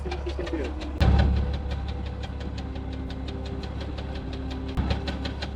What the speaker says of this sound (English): You can really hear how worn out this engine is. It has been knocking like this for over 10 years now.